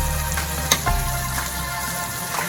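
Green onion curry sizzles steadily in a pan while it is stirred, with a few faint scrapes of the spoon in the constant close frying hiss. No one speaks.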